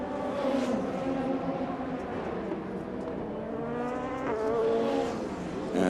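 FIA Formula 3 single-seater race cars lapping the Norisring street circuit during qualifying, a loud, continuous high-revving engine howl with rising gear-change pitch sweeps as a car winds up, steady and close throughout.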